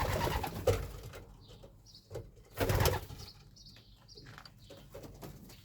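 Homing pigeons in a breeder's loft near Szczecin coo softly while wings flap in two loud bursts, one early and one midway, over a quiet background.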